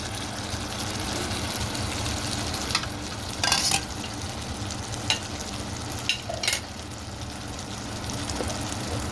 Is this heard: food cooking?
yes